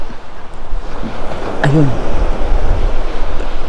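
Sea waves washing onto the sandy shore at Cooper's Island beach (Turtle Bay) in Bermuda, a steady broadband roar with wind noise, and a brief spoken word partway through.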